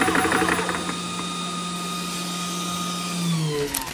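An Open Space PCP air compressor, a 350-watt unit, runs with a steady mechanical whine and buzzing hum, loud and continuous without speech.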